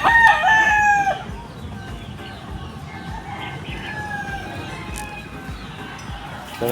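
A bulik gamecock rooster at a game farm in Bacoor, Cavite crows loudly and close by for about a second, followed by softer clucking and faint farmyard bird calls in the background.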